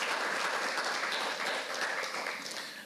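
A crowd at a historic preservation awards event applauds nominees and award winners, a thick, even wash of hand-clapping that holds steady and then thins slightly as it tapers off.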